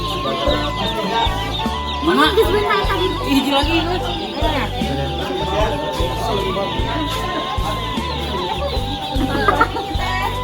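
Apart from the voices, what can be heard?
chicken clucking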